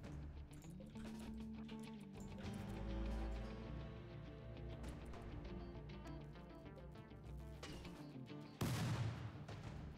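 Mortar fire in the colony game RimWorld: rumbling gunfire-like booms under a steady musical bed, ending with a sudden loud impact burst near the close.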